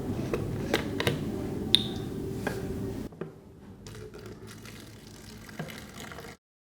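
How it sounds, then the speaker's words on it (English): Water pouring into a plastic bottle in a classroom liquid-pressure demonstration, a faint steady trickle and gurgle that thins out halfway, then stops abruptly. "Now we are going to fill the water in the bottle."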